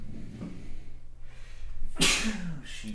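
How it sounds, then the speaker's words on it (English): A single sharp sneeze bursts out about two-thirds of the way in, close and loud, preceded by quiet breathing in a podcast studio setting. "I'm about to sneeze."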